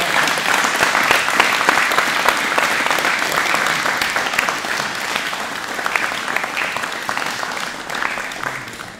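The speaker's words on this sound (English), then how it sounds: "Give him a clap" Applause for a purple belt jiu-jitsu test at a training camp, a steady, loud round of clapping from the group in a gym, continuing evenly for several seconds without speech.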